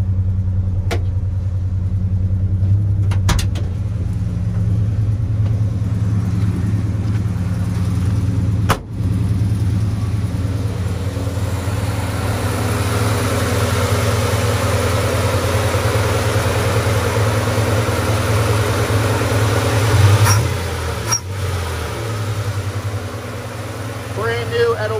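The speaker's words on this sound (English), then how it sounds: "This engine is tuned up and running fantastic." A restored 1964 Chevrolet C10 pickup with a 292 engine and a new Edelbrock carburetor idles steadily with a low, even rumble for the whole stretch, with a couple of brief clicks and knocks along the way.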